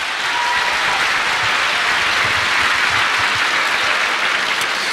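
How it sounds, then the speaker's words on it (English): Sustained applause from a large audience at a leadership talk, a steady loud wash of clapping that holds evenly throughout without pause. "Give yourselves a round of applause."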